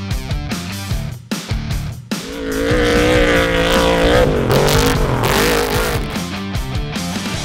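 An off-road race truck at a motorsport event roars loud and close, its engine revving hard and holding a sustained high-pitched wail as it approaches and passes, with no talking.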